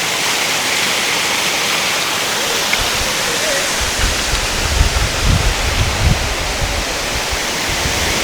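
A shallow waterfall in Devgad in Konkan, running with modest flow, makes a steady, loud broadband rush of falling water, with a few soft low thumps and splashes in the latter half.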